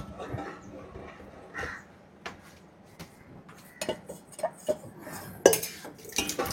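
A spoon stirring roasted flour in a pot, with soft scraping and intermittent metallic clinks and knocks against the pot that grow more frequent toward the end, fairly quiet and close.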